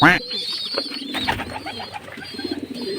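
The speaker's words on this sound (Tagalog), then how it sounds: "nagkakagulo ibon natin" Pigeons coo in soft, throaty bursts close by, with a brief flurry of wings at the start and a person talking over the birds.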